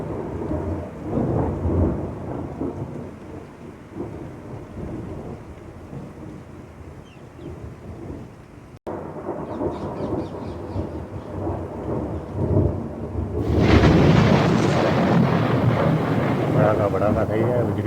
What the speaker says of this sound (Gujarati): કડાકા ભડાકા થઈ ગયા અને વરસાદ ફૂલ સ્પીડમાં ચાલુ થઈ ગયો.